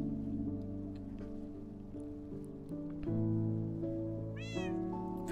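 Cats meow repeatedly in the Minecraft game over a layered musical backdrop, with one rising, wavering meow standing out near the end.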